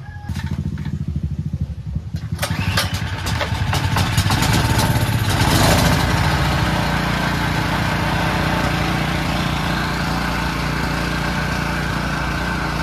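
A small engine with a freshly cleaned carburetor is pulled over with a few rough attempts, then catches and runs at a loud, steady, close-up idle that continues to the end.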